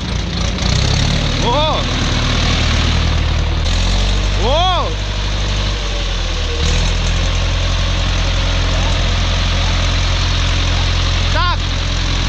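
A cold Ursus C-360 tractor engine runs loud and close with a steady, heavy rumble throughout, while voices shout briefly over it.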